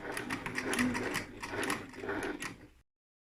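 A sewing machine runs steadily, top stitching along the edge of a fabric Christmas stocking with a fast, even mechanical whir and clatter at close range before stopping abruptly.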